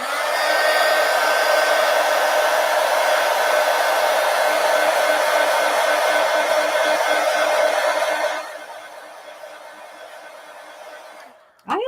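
A handheld hair dryer blows steadily over a freshly colored adult coloring page, a loud continuous whir that drops in level near the end before a brief sound at the close; light laughter may sit under it.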